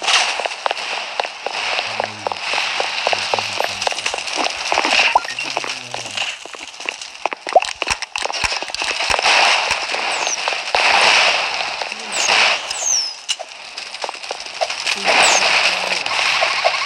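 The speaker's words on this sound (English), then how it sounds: "He's trying to shoot fireworks on me." Fireworks launched during a Roblox Mad City game session: a string of sharp crackling pops and bursts scattered over a steady, noisy game background, some louder bangs near the middle, with no talking.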